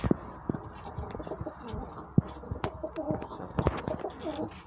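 Soft, low pigeon cooing repeats in short phrases amid light ticking and handling noises close by; no voices.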